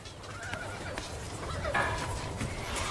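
A roan horse whinnies amid outdoor noise with hoof clip-clops, the neigh rising briefly in the middle of a steady, busy background.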